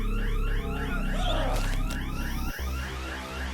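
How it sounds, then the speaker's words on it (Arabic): Fire alarm in The Happyhills Homicide game, a loud, urgent siren with rapidly repeating rising sweeps, pulsing continuously over a low electronic background with brief dropouts. "احنا هنفعل يا جماعه انذار حريقه"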